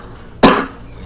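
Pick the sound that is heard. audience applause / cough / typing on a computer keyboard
cough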